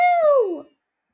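A Minecraft sheep gives a single clear bleat, a wavering falling cry lasting about half a second, loud and close, then silence.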